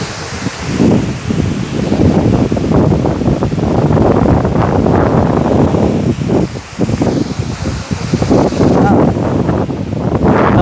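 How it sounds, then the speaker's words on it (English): Aagaya Gangai waterfall in Kolli Hills roars with a steady, loud broadband rush, mixed with gusty wind buffeting the microphone. "But wonderful waterfall."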